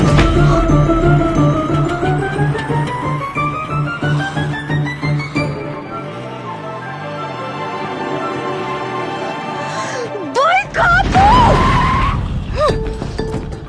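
A car brakes hard, its tires squealing in rising and falling skids over steady engine noise, loud and close, ending in a sharp jolt.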